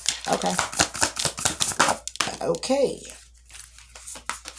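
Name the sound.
shuffling a deck of cards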